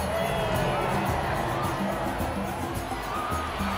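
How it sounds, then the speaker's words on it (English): A crowd of people gathered on a cliff in a Black Panther film scene cheers and shouts, a dense steady roar with scattered higher children-like shouts and some voices mixed in throughout. "they show everyone on the cliff of cheering and clapping"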